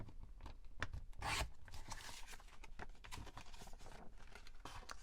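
A cutter slices through paper in a close, quiet series of short scraping and rasping strokes with uneven rhythm.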